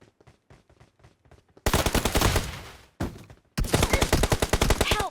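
Automatic gunfire in the PUBG Mobile video game: loud, rapid bursts of shots, a long rattling volley broken by a brief pause and then another dense burst, preceded by quieter soft clicking.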